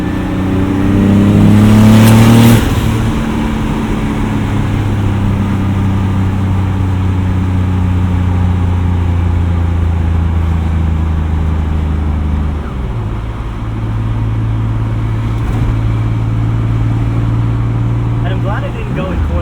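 A big-turbo 1995 BMW 325i E36 engine drones steadily while driving, rising into a loud rev early on before settling into a sustained cruise hum, with a voice speaking over it.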